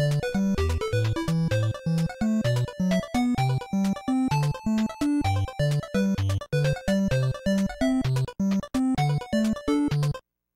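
StarTropics video game music plays with broken channel data, its chiptune parts drifting out of sync into a clashing, jumbled stream of bright square-wave notes over choppy bass pulses, loud and steady before stopping abruptly.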